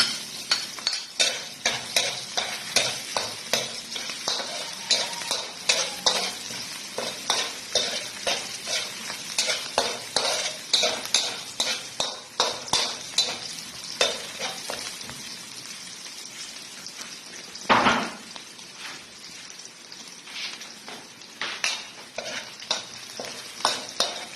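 Garlic sautés in a pan while it is stirred again and again, a fast run of scraping, clicking strokes over a soft sizzle, with one louder clatter near the end and no voices.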